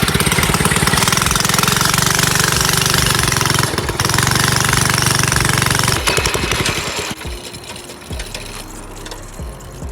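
Small mini bike engine rattling at a fast, loud, choppy idle close by, then dropping to a lower, quieter putter near the end.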